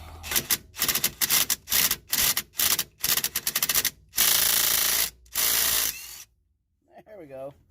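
A power tool worked on the brakes of a 2011 Toyota Prius during a brake change, firing in rapid rattling bursts, then in longer sustained runs, loud and close, before cutting out.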